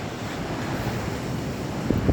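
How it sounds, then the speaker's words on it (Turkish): Strong storm wind roars continuously against the microphone, a dense rushing noise that swells slightly near the end. "İnanılmaz bir rüzgar var."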